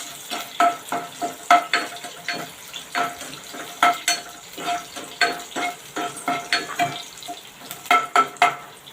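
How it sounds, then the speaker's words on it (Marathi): Chopped green chillies sauté in hot oil while a spoon stirs them, giving repeated scraping and clinking strokes over a steady, close sizzle with no talk. "मी त्या दोन मिरच्या चिरून घेतलेल्या आहेत बारीक तेलावर परतून घेणार आहोत"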